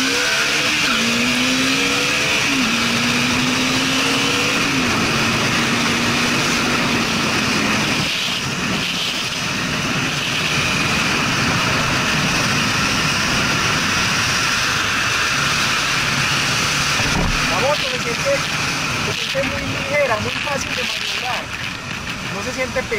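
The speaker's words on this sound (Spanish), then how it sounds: "Vamos a coger acá la 80, vamos a pegar un aceleroncito." A Bajaj Dominar 400 motorcycle engine revs up under acceleration, a rising tonal whine climbing in steps through the gears, loud and close with steady wind rush and occasional talking over it.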